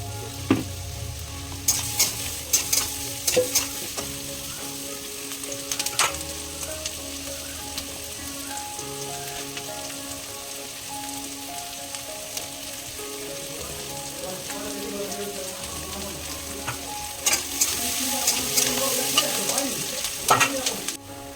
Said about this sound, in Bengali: তো পেঁয়াজটা একটু লাল লাল করে ভাজা হয়ে গেছে